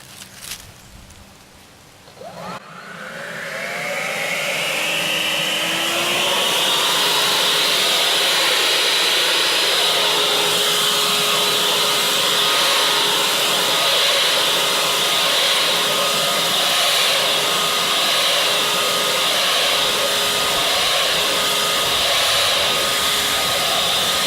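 A Redback 120V cordless leaf blower spins up after a quiet start and then roars loud and steady for the rest of the clip, pushing wet leaves out of weeds, a whooshing high-pitched rush with no talking.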